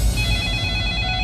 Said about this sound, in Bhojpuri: कितना फोन आवेला इनकर का मालूम